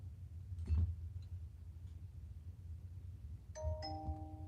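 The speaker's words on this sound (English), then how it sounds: "Ding dong" A two-tone ding-dong chime rings out clearly near the end, close by, over a low rumbling background with a faint knock just before.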